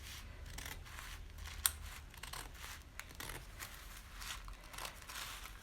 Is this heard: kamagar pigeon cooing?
no